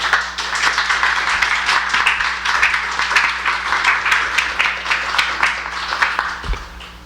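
An audience breaks into sustained applause after readers finish a public reading of Frederick Douglass's Fourth of July speech, dense steady clapping filling the room throughout.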